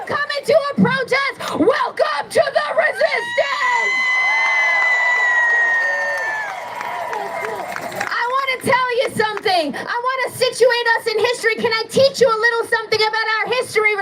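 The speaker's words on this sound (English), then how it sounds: "If you're an introvert, shout out now." A large crowd at a No Kings protest in New Orleans roars and cheers in a sustained swell lasting several seconds, with amplified talk before and after it.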